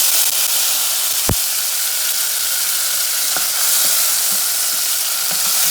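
Tomatoes frying in a hot pan as the base for Cuban-style black beans, with a loud, steady, close sizzle and a few faint taps of a utensil.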